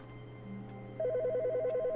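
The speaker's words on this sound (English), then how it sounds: "But the phone is ringing?" Electronic telephone ring in a video game, a steady warbling two-tone trill that starts halfway through and repeats evenly over a low background hum, fairly loud and with no voices.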